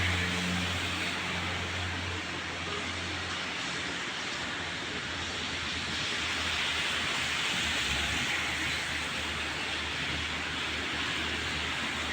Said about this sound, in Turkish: Oturduğum yere vurmaya başladı yağmur.